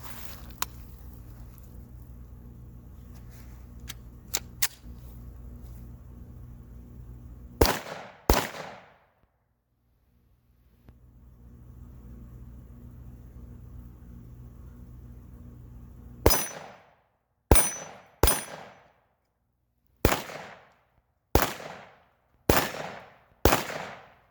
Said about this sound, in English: I'll roll in some footage also in this video of me shooting this brace with this pistol in it